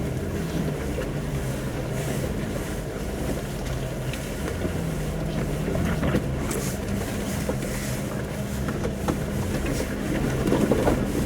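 Jeep Wrangler engine pulling steadily after an upshift from first into second gear in autostick while off-roading, a continuous low drone with rough rumble that swells slightly near the end, no talking.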